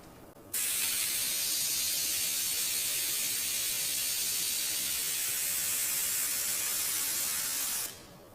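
An airbrush sprays a line with a steady, close hiss of air that starts abruptly and holds for about seven seconds before the trigger is released and the spray stops.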